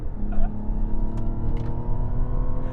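Mazda CX-70 hybrid accelerating hard on throttle, a steady engine drone with road noise running throughout the cabin, fairly loud and continuous.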